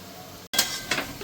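Taal (palm fruit) bora fritters hit hot oil in a pan, a short hush broken by a sudden bright sizzle that swells twice in quick succession, close and crisp.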